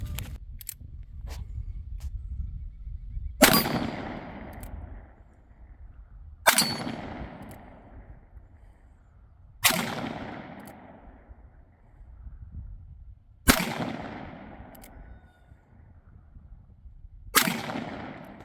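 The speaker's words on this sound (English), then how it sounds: "I could honestly shoot this thing all day long and it wouldn't hurt my hands at all." Five loud, sharp gunshots from an 1873 single action revolver at an outdoor range, spaced a few seconds apart, each followed by a decaying echo over a low background rumble.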